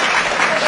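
A crowd gives loud, dense, continuous applause, a close wash of many hands clapping at once throughout the brief moment.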